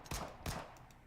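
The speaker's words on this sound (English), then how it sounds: "Gunfire?" Gunfire in the anime game Nikke: two separate sharp shots about a third of a second apart, followed by fainter trailing clicks, quiet overall.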